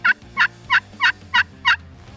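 A friction pot call imitates soft hen turkey yelps: six evenly spaced, moderately loud two-note yelps in a steady rhythm, heard alone without talk.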